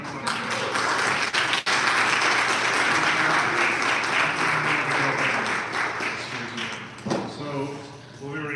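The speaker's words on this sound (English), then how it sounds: "Big round of applause." A live audience at a Syracuse Actors Studio theatre event gives a big round of applause, sustained dense clapping with a voice talking over it near the end.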